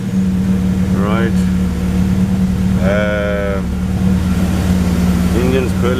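A BMW E93 320i engine idles in a steady, loud hum after crankshaft position sensor replacement, with someone talking over it in short bursts.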